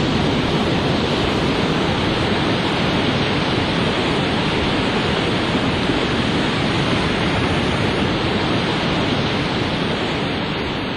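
Large waves on the Sinis coast of Sardinia crash and wash without pause, a dense, steady roar of surf close at hand with no voices.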